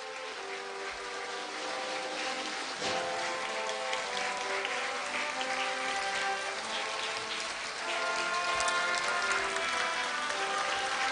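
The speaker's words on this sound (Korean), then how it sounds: "여러분, 다시 한번 큰 박수를 부탁드립니다." A large audience at a Korea University degree-conferral ceremony claps continuously, a dense, sustained roar of applause filling a big hall that swells louder near the end, with no speech over it.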